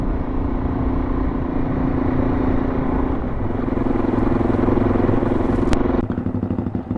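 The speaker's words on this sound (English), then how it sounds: "Just take it steady for a few minutes, let the bikes warm up." Motorcycles idle and warm up on a dirt airstrip in the outback scrub near Cape York, Australia, with a steady loud engine rumble and low drone throughout, a brief clatter near the end, then the engines shift as the bikes pull away.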